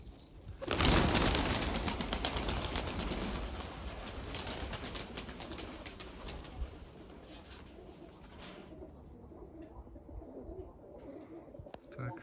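Budapest and Mykolaiv breed pigeons cooing softly amid outdoor autumn ambience, with a rush of noise at the start that fades to a quieter background.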